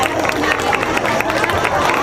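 Applause from an audience at a religious storytelling gathering, dense and steady clapping mixed with crowd murmur throughout the short stretch.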